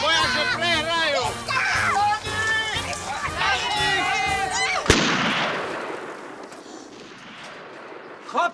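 At a go-kart race start, shouting voices give way to one sharp gunshot-like bang, followed by a fading rumble and noisy crowd commotion.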